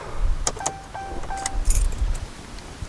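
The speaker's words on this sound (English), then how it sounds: "Turn off the car." A truck being switched off after an OBD tool procedure, with jangling keys, a few clicks and chimes, and short thuds inside the cab, heard close.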